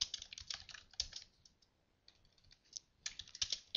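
Keys tapped on a computer keyboard in quick bursts with a short lull midway, close and fairly quiet, no talking.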